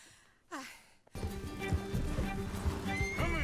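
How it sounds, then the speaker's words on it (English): A horse whinnies briefly over quiet in Red Dead Redemption 2, then a busy game soundscape kicks in with thuds and clatter, and a second whinny near the end. "Oh, horse kicked him off."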